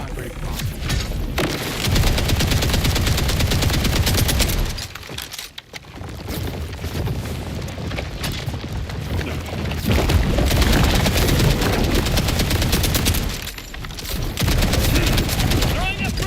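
Frag grenade blast and sustained gunfire in Borderlands 4, with dense rattling shots and booming explosions running nearly throughout, a brief lull midway, and a voice talking over the combat.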